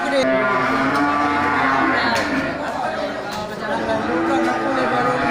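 Aceh cattle at a livestock auction low with sustained moos over busy crowd chatter, while an auctioneer's voice carries through the scene.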